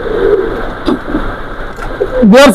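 Pigeons coo close by in a pigeon loft, low throaty calls rising and falling, with a louder burst of cooing near the end.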